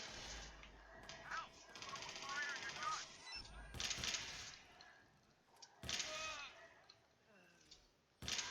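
Bursts of gunfire in the Watch Dogs 2 video game as dogs are shot, several sharp loud volleys separated by pauses, with a voice reacting in between.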